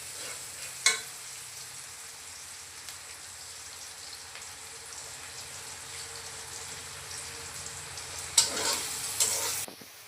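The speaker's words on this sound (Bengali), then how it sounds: "এই তো পেঁয়াজটা ভাজা হয়ে গেল।" Onions frying in a pan, a soft continuous sizzle under occasional stirring scrapes, with a louder clatter near the start and a burst of activity near the end, fairly quiet and close.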